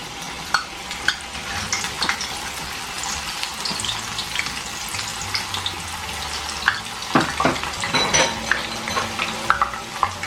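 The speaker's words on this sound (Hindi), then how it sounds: "चने की दाल डालेंगे।" Chana dal sizzles in hot oil for homemade nimko, a continuous bright frying crackle with occasional stirring clatters, close and loud, with no voices.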